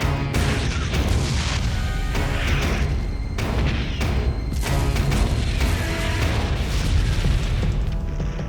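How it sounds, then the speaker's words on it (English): Massive naval bombardment of the Normandy coast, a dense, continuous roar of heavy booms and blasts layered over one another, loud and unbroken throughout with no voices. "a force, tens of thousands of men strong, approaches the Norman coast and unleashes a massive naval bombardment"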